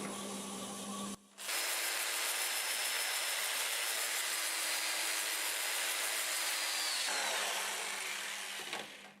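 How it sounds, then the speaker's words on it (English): Hand sanding a spinning cherry plum wood bowl-vase on a lathe, a steady abrasive hiss over the motor's hum, briefly interrupted near the start, then continuous and even until it tapers off. "I'll just do a little sanding here"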